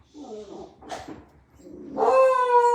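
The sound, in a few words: beagle dog barking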